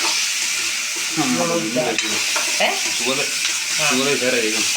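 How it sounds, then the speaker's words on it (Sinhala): Food being stirred and mixed in a hot pan during traditional Sri Lankan home cooking, with a continuous sizzle and repeated scraping strokes of a spoon close by, with some faint background noise. "මේක හොඳට කලවම් කරලා"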